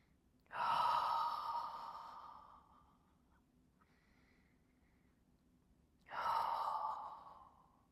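Two slow, deep breaths during a floor exercise, each a long audible exhale like a sigh, close and soft with a quiet pause between them.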